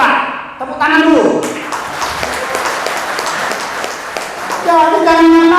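A crowd at a labor rally bursts into sustained applause and clapping that swells after a brief tonal voice and runs steadily for several seconds before another voice rises over it.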